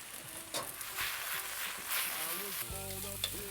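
A mixture of anise, soy sauce and fish sauce stirred into grilled duck and vegetables on an Onyx grill, a soft sizzle with stirring scrapes and light clinks, and a faint voice briefly underneath.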